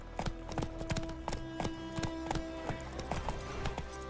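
Roach, the horse in The Witcher 3 video game, gallops with quick, evenly spaced hoof clip-clops that stay close and steady over a low constant background hum.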